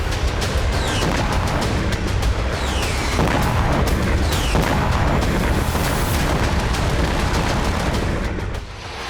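A dense, continuous roar of Russian missile strike explosions, loud and sustained, with sharp cracks scattered through a heavy low-frequency wash.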